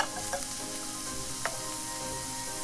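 Chopped onions frying in hot oil in a pan for a minced meat and potato curry, a dense close sizzle with a couple of brief stirring knocks.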